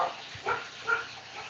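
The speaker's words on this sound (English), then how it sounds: "Dog scared me." A dog barks twice in quick succession, moderately close, against a steady background hiss during a live forge session on a rainy day.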